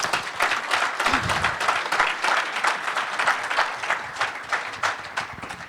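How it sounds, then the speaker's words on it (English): Applause from an audience after a question-and-answer session fills the room, a steady, moderately loud patter of many hands clapping with no talking over it. "Let's keep that applause going for these interviewers, John and Gil, and all the ministry leaders."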